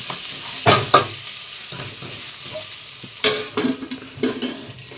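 Onion and chili powder are stir-fried in a pan, with a spoon scraping and stirring in several sharp bursts over a soft, continuous sizzle, close by and without talk.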